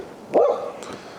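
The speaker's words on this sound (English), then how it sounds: "It's the neighbor's dog." A neighbour's dog barks outdoors in a yard, one clear bark followed by a softer second yelp, heard at moderate distance with no talking.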